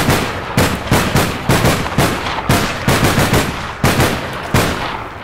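Gunfire from APB Reloaded rings out in loud, close bursts, with rapid shots clustered into repeated volleys at a steady rhythm and no pauses between them.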